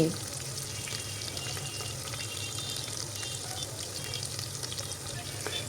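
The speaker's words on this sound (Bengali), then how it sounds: "পেঁয়াজগুলো আমি খুব সুন্দর করে এই তেলের মধ্যেই ভেজে নিচ্ছি" Steady crackling sizzle of onions frying in hot oil inside a pressure cooker, continuous and close, with no talking.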